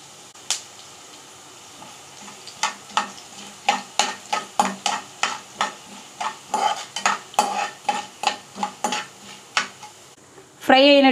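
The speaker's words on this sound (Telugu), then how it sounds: "ఈ ఆయిల్లోనే ధనియాలను కూడా వేసుకొని ఫ్రై చేసుకుందాం." Coriander seeds fry in hot oil while a spatula stirs them in a steady run of sharp scraping strokes, roughly two a second, over a low sizzle, close and fairly loud, with a brief clatter at the end.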